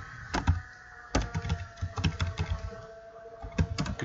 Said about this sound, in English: I'm going to try typing in